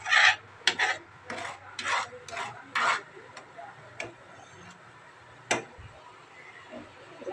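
A thick mixture in a cooking pan being stirred continuously, with repeated scraping rasps of the spoon against the pan in an uneven rhythm, close and moderately loud, fading to softer strokes later.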